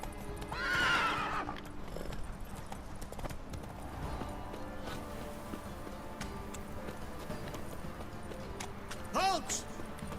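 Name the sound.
horse Roach galloping and neighing in The Witcher 3 video game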